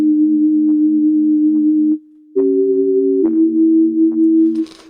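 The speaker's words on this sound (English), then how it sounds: "Obviously this is what it sounds like with the processing so far." Wub bass patch built in the Massive synth with tremolo processing, a loud sustained low tone that steps in pitch, drops out briefly near the two-second mark, then returns with a buzzier edge and a hiss near the end.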